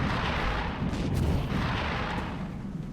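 Reaction gunfire in XCOM Long War, a video game: a dense, loud wash of gunfire and booming impacts fills the whole short stretch without a break, with no voices.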